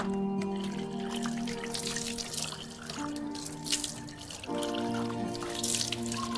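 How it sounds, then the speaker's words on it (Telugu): Water is poured lightly over a tube light converted into an aquarium, giving a quiet, continuous running and splashing sound with a steady hum underneath. "ఓకే కొంచెం వాటర్ అయితే పోనిద్దాం లైట్గా"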